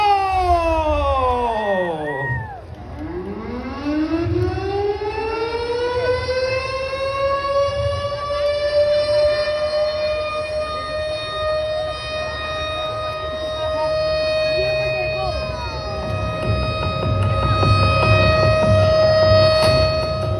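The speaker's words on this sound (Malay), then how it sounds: "siren yang dibunyikan menandakan tabung jabatan bertuah ini telah pun ditutup secara rasminya" A siren sounds at a Ramadan clothing bazaar lucky draw to mark the box closing, with a loud sustained wail that swoops down and back up early on and then holds a steady pitch, while a faint crowd murmurs underneath.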